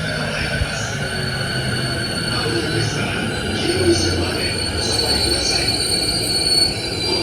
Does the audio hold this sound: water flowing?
no